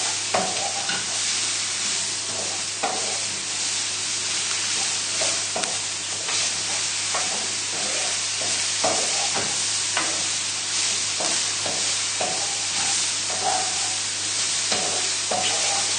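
Bacon and mushrooms fry in a pan with a steady, close sizzle, and stirring scrapes and clinks through it at an irregular rhythm. No one speaks.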